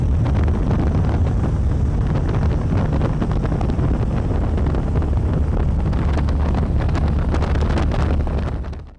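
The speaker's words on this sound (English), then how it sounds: "Wait for this wind to come in." Blustering wind at an airfield batters the microphone with a constant, heavy low roar and rushing buffets, loud throughout before cutting off abruptly at the end.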